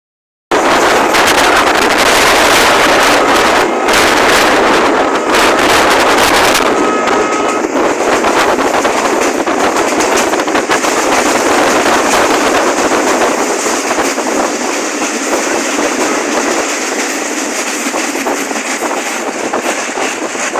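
Udaya Devi express train running, heard from inside a third class carriage: a loud, continuous broadband roar of wheels and rushing air with rattling clatter, steady throughout with no talk.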